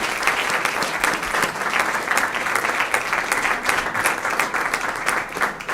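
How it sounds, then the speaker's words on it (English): An audience applauds a panel at a women-in-sports discussion event, a continuous, fairly loud clatter of many hands with crisp individual claps popping through. "So a round of applause for our panel"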